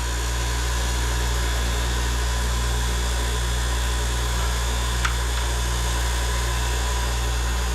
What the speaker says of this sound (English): Just gonna grind the tip of that screw off.